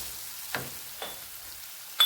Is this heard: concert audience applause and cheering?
no